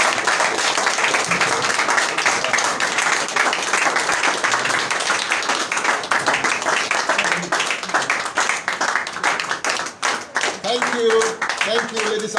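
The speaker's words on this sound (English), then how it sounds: "Rise up and clap for leader," An audience at a political press event stands and claps for a leader, dense steady clapping throughout with voices murmuring and talking underneath, loud and close.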